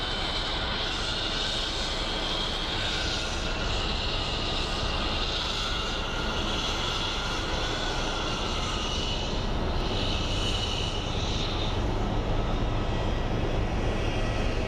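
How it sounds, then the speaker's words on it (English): A Boeing 737-800's auxiliary power unit runs loudly at Phoenix Sky Harbor airport, a steady, unbroken roar with a high whine on top that holds level throughout, with no voices. "That is a loud APU."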